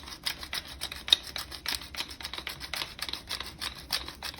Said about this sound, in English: I think this is a great time to add a little extra fresh cracked pepper flavor to the top of this